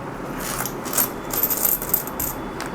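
Aluminium-magnesium commemorative coins from the Mumbai Mint clink and jingle as a parcel is opened, with light metallic taps clustered near the middle and a rustling backdrop, no talk.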